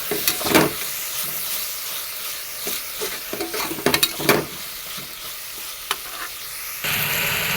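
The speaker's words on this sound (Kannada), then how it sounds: "ಇದ್ರ ಜೊತೆ ಟೊಮೆಟೊ ಸಾಸು ಚೆನ್ನಾಗಿ ಫ್ರೈ ಮಾಡ್ಕೊಳ್ಳೋಣ." Tomato sauce frying in a pan for vangi bath, a continuous sizzle with occasional sharp crackles and spoon scrapes, close and alone, ending in a louder steady hiss.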